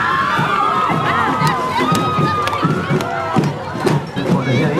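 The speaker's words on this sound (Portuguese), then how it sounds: "Cadê as palmas? Vamos aplaudir." A crowd cheering and shouting along a parade route as the lead float passes in a town anniversary parade in São Gotardo, loud and continuous, with whistles, children's cries and a chanting voice over the hubbub.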